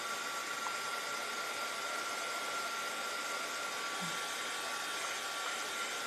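A hair dryer blows on a handmade ladybug insert and basket craft piece, giving a steady, even, close-up whooshing whir that holds constant throughout without pauses.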